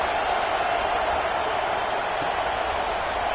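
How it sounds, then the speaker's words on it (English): Steady stadium crowd roar at a football video game after a score, a continuous broadband buzz that holds level throughout with no breaks. "this crowd is buzzing after that last score"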